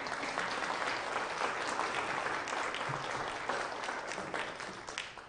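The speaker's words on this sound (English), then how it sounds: "Yes, applaud." A church congregation applauds during a service, with soft, steady clapping from many hands that carries on for several seconds and fades slightly at the end.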